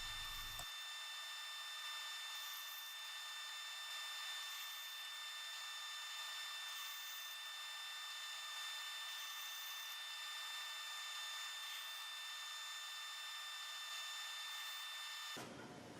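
A band saw cuts facets into a wood block with a steady high-pitched whine and hiss that runs continuously for about fifteen seconds, then stops suddenly.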